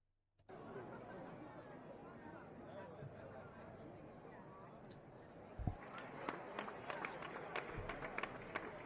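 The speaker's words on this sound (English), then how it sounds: "Let's get the crowd noise going again." Crowd noise effect for a Rangers vs Marlins baseball broadcast, a steady ballpark murmur of chatter that starts abruptly and runs throughout, with sharper claps and bat-like cracks appearing in the last few seconds.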